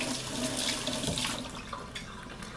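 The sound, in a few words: rinsing peeled sweet potato under running water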